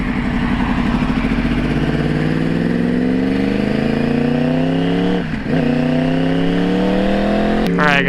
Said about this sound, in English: Man, that exhaust sounds good.